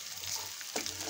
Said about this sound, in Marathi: आपण आता कढईत तेल टाकून आलं लसूण खोबरं